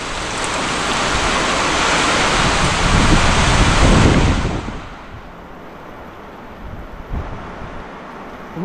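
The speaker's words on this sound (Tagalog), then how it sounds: "Lakas ng hangin no?" Strong typhoon wind roars loudly across the microphone for several seconds, a dense broadband rush mixed with heavy rain, then eases off to a lower steady hiss with brief renewed bursts.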